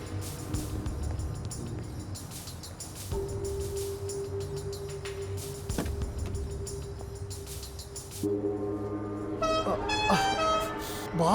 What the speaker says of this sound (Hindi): ये हॉर्न कहां से दब गया मेरे से?